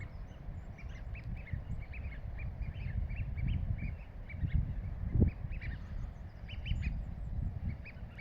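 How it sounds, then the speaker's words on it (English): Mandarin ducks quack softly in the distance on a Welsh morning, with repeated high bird cheeps and a low, steady outdoor rumble underneath. "I think they're all mandarin ducks down there"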